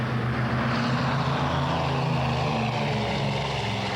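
Propeller engines of a Douglas Skymaster airliner drone steadily and loudly up close, a continuous rumbling roar with a low throbbing hum that holds constant throughout, with no voices present.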